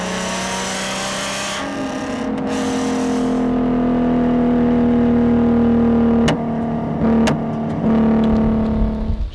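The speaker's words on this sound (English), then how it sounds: "the mic that's attached to the trunk, or that's capturing the exhaust noise" A car engine and exhaust, picked up by a microphone mounted on the trunk, drone steadily and loudly as it accelerates, the pitch rising slightly, with a few sharp clicks or pops along the way.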